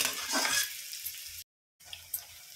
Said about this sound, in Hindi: प्याज को अच्छी तरह से हमें ब्राउन करना है, तो आप 1-1 मिनट में इसे चलाते रहें।